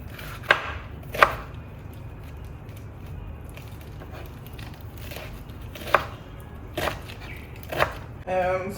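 A knife chops lettuce for a chicken avocado salad, giving about six sharp, separate cuts against a board at uneven intervals. A quiet room tone lies underneath.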